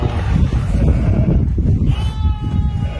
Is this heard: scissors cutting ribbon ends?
no